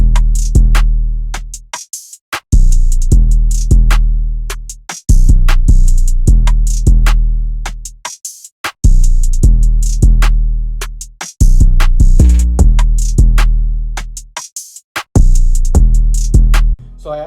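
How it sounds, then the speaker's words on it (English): A full FL Studio drum pattern in a beat, with booming 808 bass notes, hard kicks and crisp percussion repeating in a steady loop, loud and upfront with brief dropouts between phrases. "all the drums together sound like this"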